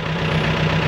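A Foton close van engine, filled with test oil, revs hard in a steady, loud, rough roar with a low throbbing hum, close-up for under a second.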